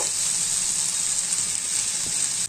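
Pointed gourd (potol) fries in oil in a pan, a loud, steady close-up sizzle with faint stirring clicks and no talk.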